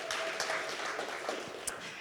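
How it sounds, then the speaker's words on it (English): Crowd applause at a startup showcase conference in Vienna, a steady wash of many hands clapping with a few sharper individual claps standing out, sustained and fairly even throughout. "Let's give him a round of applause, everyone"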